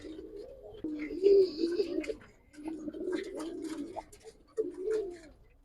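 Giribaz silver pigeons coo up close in three rolling bursts, soft throaty calls separated by short pauses, with faint background chatter.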